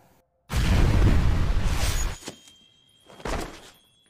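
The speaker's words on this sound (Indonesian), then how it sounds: "Sebuah ledakan dahsyat pun terdengar di sana" A loud, sustained anime explosion near an abandoned factory roars for about two seconds, followed by a couple of smaller rumbling bursts, with a faint high tone lingering in the background.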